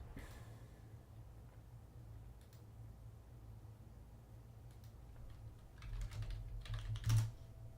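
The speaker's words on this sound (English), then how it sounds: "They are typing now." Quiet computer keyboard typing during a lull in a fantasy land battle tournament game, soft scattered keystrokes with a slightly busier burst near the end, no talk.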